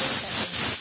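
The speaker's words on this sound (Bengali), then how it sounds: "আমার ডালে সিটি পড়ে গেছে।" A pressure cooker cooking matar dal vents a loud, steady hissing whistle of steam, filling the whole short burst with no voices.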